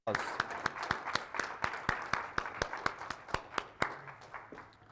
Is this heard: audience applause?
yes